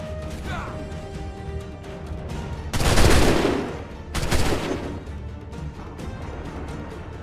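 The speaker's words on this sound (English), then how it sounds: "Open fire!" Two heavy musket volleys crash out a second or so apart over a steady battlefield din in Assassin's Creed 3, the first volley the louder and longer.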